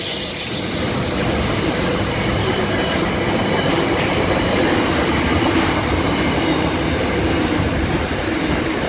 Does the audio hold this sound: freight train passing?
yes